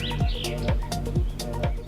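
Birds chirp around a house in a jungle forest garden, quick repeated high tweets over a dense busy background, fairly close and clear.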